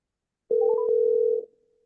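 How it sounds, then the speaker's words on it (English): A telephone line gives a steady dial tone while a caller is being dialed in, a clear sustained tone of about one second with a few brief blips near its start, then silence. "let me just see if I can dial him in"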